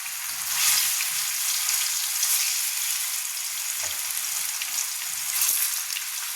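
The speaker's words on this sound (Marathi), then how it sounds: "तर आता ही वडी तळून घेऊ आपण एक एक टाकून. मस्त असं तेल तापलंय." Aloo vadi pieces fry in hot oil, giving a steady, close hiss and crackle of sizzling with a few soft clinks of a utensil, and no voices.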